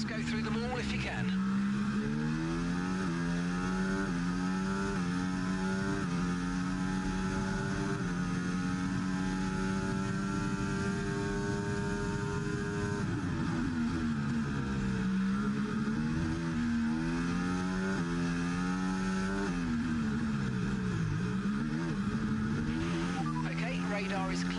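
Formula 1 race car engine from the F1 24 video game on a formation lap in Azerbaijan, a steady loud droning roar that rises and dips through gear changes across the whole stretch, with a voice talking over it.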